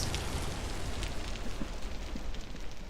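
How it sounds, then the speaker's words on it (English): Rain falls in Vintage Story as a steady, dense patter, continuous and fairly loud, with scattered soft drop ticks and no voices. "It's still raining! It's been raining for like the past 2 hours!"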